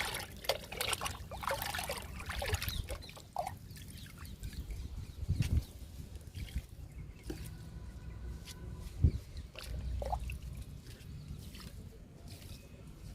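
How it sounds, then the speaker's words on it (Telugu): Liquid fertilizer being poured onto bean and other vegetable plants outdoors, a soft steady trickle with intermittent splashes at moderate distance, faint birds in the background. "మొక్కలకి ఇస్తున్నాను లిక్విడ్ని కలుపుతూ ఇవ్వండి"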